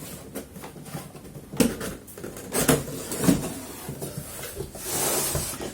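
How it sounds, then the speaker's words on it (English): A cardboard box for an airsoft replica of a WinGun Mosin Nagant M44 carbine gets opened close by, with scattered knocks, flaps and rustling thumps that come in irregular bursts. "And so now we're going to open the box."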